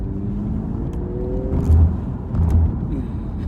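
A BMW M135i with a manual gearbox driving, a steady low engine drone heard from inside the cabin with two brief surges of revving.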